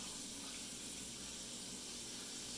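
Onion rings frying in hot oil: a steady, close hiss and sizzle with fine crackling bubbles that goes on throughout, with no voices over it.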